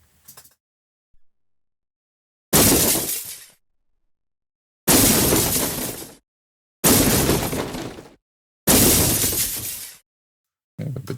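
Granular-synthesis debris crashes saturated with a Decapitator plugin for game audio: four loud, abrupt shattering bursts, each decaying quickly, separated by silence, with a faint short crackle before and after.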